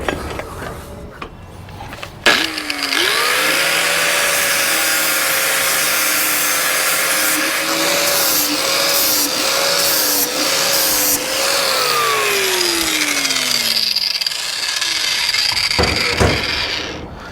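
Harsh, steady metal grinding on a cracked Dakota exhaust pipe, running loud and continuous for about twelve seconds with a wavering whine before spinning down near the end.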